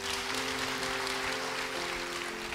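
A church congregation applauds after a sermon, giving steady, dense clapping from many hands for the whole stretch with no talking over it.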